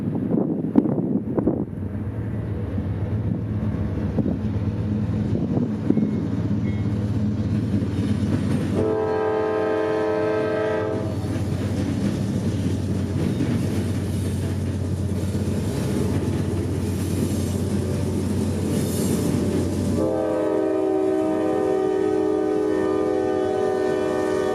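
A loaded CSX grain freight train, G405, rumbles steadily past with wheel clatter and wind buffeting, while its horn sounds in two long loud blasts partway through.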